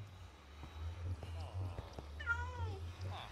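A Minecraft cat meows in a short rising-falling call near the end, heard over steady game background noise and a few soft thuds, with no speech.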